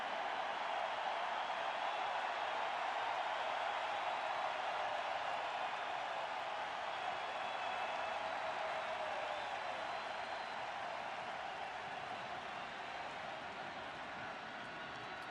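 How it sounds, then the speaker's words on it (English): A packed baseball stadium crowd roars during World Series Game 7 in 2016, a dense, sustained wall of cheering that holds steady throughout and fades only slightly toward the end. "the crowd is finally in full throat."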